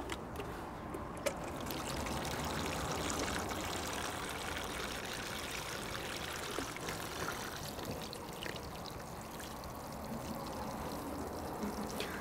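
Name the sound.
water poured into a container of coconut coir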